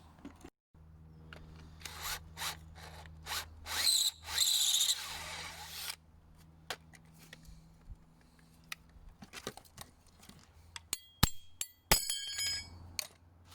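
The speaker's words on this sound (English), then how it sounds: "Countersink piece on this, we'll see the drill. Done a little hole" A power drill fitted with a countersink bit bores a small hole in a Ford Fiesta ST180 engine bay during a lower engine mount install: a steady close motor whir with a sharper grinding burst in the middle, then scattered metallic clicks and taps.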